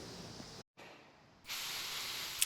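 Spray gun laying a light paint coat over a whole vehicle in a spray booth, a steady soft hiss that breaks off briefly, resumes quietly, then returns louder and sustained.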